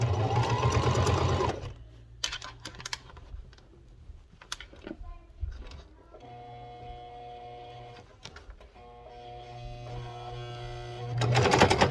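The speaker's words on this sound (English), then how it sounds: "the sewing machine does not like thick anything through it." A sewing machine stitching through thick fabric for a sugar glider tunnel, running in short labored bursts with a steady whirring motor hum and scattered clicks, close and fairly quiet, with brief talk at the start and end.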